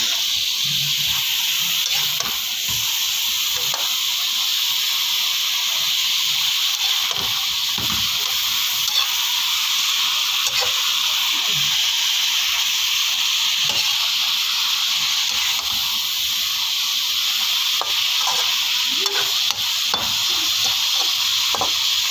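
String beans and vegetables, with ground meat and chili leaves, being sautéed in a pan: a continuous bright sizzle and hiss with occasional soft stirring scrapes, steady throughout.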